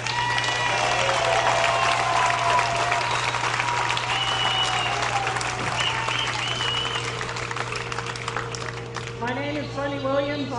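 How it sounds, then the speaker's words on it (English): A crowd at a women's pro tennis singles final applauds the ball kids steadily for several seconds, dense clapping filling the space, with voices and a few cheers rising near the end. "How about a big round of applause for your ball kids?"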